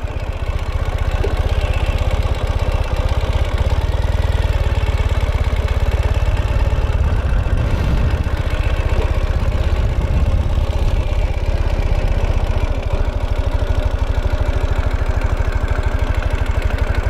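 A 2014 Ural Gear Up sidecar motorcycle in burnt orange idles steadily in first gear, its engine producing a loud, close, continuous rumbling chug with light mechanical clatter.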